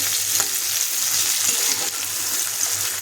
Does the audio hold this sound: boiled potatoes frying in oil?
yes